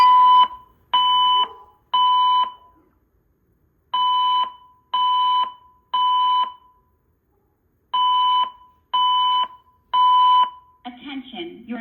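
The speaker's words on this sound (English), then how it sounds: "The fire alarm in the building has been activated." A Gamewell-FCI E3 fire alarm system sounds loud, even groups of three electronic beeps with pauses between, in a temporal pattern, with a voice announcement beginning at the end.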